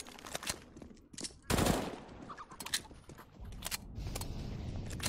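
Gunfire from a weapon in Counter-Strike: Global Offensive, with sharp shots in quick bursts and single cracks over game background sounds, fairly faint overall.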